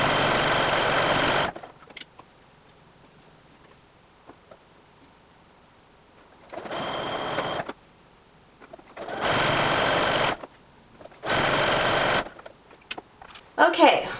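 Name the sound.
sewing machine stitching fold-over elastic onto fabric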